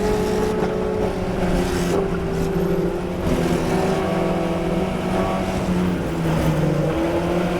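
Formula Ford race car engine droning steadily through a historic feature race in New Jersey, a continuous close, loud tone with slight pitch shifts as the car lifts off and drives through corners, with no voices heard.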